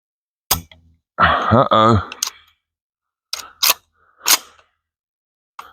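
Gunshots from a Draco NAK-9 AK-style pistol fired outdoors at a range: one sharp report, a burst of metallic clattering with a buzzy mechanical rattle, then several separate loud bangs with silent gaps between them.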